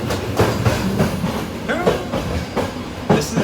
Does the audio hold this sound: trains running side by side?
yes